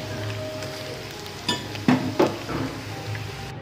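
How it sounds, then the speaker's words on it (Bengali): Chicken 65 pieces fry in a pan of oil with a steady soft sizzle, broken by a few sharp utensil clinks against the pan in the middle. "চিকেনগুলো এরকমভাবে লাল করে একদম ভাজতে হবে ভালো করে"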